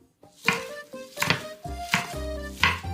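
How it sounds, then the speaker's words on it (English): A knife slices fried tofu into strips on a cutting board, about five crisp, evenly spaced chops with a woody knock at each stroke, close and clear with no talk. "I'll slice the fried tofu into strips as before."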